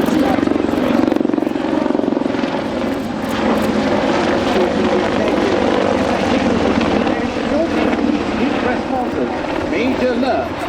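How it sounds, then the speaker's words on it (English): A Boeing AH-64D Apache attack helicopter flies a display at an airshow, its loud rotor thrum and turbine whine holding steady and close for about ten seconds, with a faint announcer's voice beneath. "This armor-protected helicopter is able to rapidly detect,"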